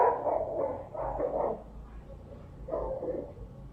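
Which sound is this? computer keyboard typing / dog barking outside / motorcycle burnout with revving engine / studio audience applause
dog barking outside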